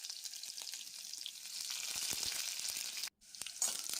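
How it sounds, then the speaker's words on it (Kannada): Mustard seeds, garlic and dry red chilli hit hot oil for a tomato rasam tempering, giving a dense, close crackling sizzle that rises steadily and cuts out briefly before resuming. "ಎಣ್ಣೆ ಕಾದಿದೆ, ಸಾಸಿವೆ ಹಾಕ್ತೇನೆ. ಬೆಳ್ಳುಳ್ಳಿ ಹಾಕ್ಕೊಳ್ತೇನೆ."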